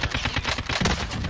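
AK-47 automatic fire in the Warzone video game: a fast, loud, continuous burst of rapid shots rattling for the whole stretch, close and up front with no talk over it.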